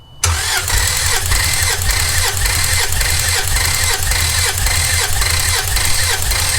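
A Toyota Land Cruiser FZJ80 engine cranks over on the starter during a compression test, giving a loud, close, rhythmic churning with steady pulses for several seconds and no firing.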